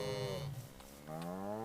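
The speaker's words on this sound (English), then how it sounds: "And we have cows." Cows in the video game Towncraft mooing twice, a long low harmonic moo followed by another, clear and isolated.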